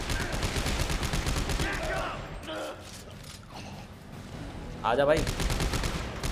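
Sustained rapid gunfire rattles in the Dead Space 3 video game, loud and continuous through most of the stretch, easing off briefly in the middle while someone speaks over it.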